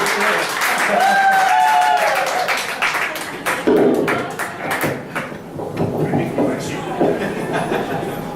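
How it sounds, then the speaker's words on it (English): Comedy club audience in New York giving a standing ovation, dense clapping that fades gradually into scattered claps, with a whistle and cheers early on and voices over the tail. "Thank you for the standing ovation"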